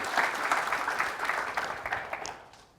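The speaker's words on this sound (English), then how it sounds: "Let's give them one more time, one more round of applause." A burst of crowd applause, dense clapping that swells briefly and then tapers off, with no voices over it.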